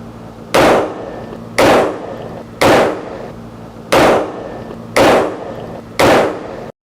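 Six sharp gunshots from an M16 rifle firing 5.56 rounds at a silk-cocoon armor plate, evenly spaced about a second apart. Each is a loud, close crack with a short ringing tail.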